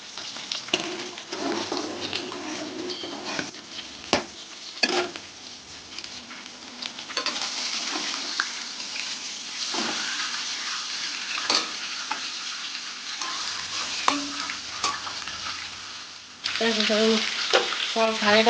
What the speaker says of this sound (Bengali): মাছ ভাজা কিছুটা হয়েছে কিছুটা ভাজছে